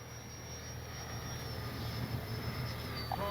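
FMS 80mm Futura V3 RC electric ducted-fan jet making a fast low pass down a runway, a steady rushing whine with a high tone that holds then shifts, fairly distant and continuous with no talk.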